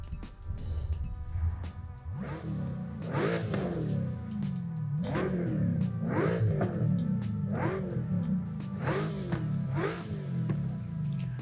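A car engine fitted with a race intake in Forza Horizon 5 revs repeatedly, about seven sharp rising blips in a steady rhythm over a low idle rumble, close and loud with no talking.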